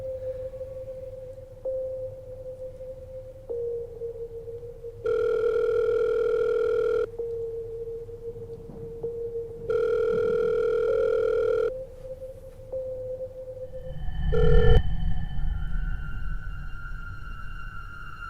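A telephone receiver gives a steady dial tone, broken by two long, louder ringback tones, followed by a short burst of noise and a change to a different tone pattern.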